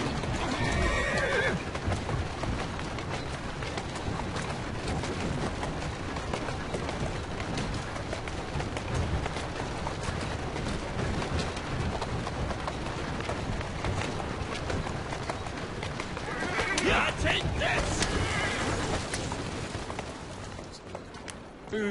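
A horse neighs near the start and again later over steady galloping hoofbeats and busy outdoor ambience in Assassin's Creed Syndicate.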